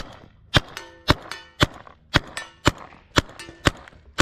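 A paintball marker fires repeatedly, producing about eight sharp, metallic pops spaced roughly half a second apart in an even rhythm, each with a brief ringing tail and no talking.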